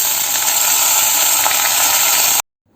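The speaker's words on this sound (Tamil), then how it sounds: "பெரண்டலையை போட்டு வதக்கிட்டு இருக்கோம்" Pirandai leaves sauté in hot oil in a pan, giving a loud, continuous close-up sizzle and hiss that holds steady and then stops abruptly into silence.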